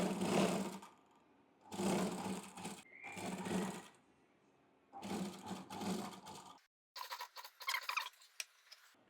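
A sewing machine stitching a corset top runs in short bursts of rapid, close stitching separated by pauses, ending in quicker, lighter stitches.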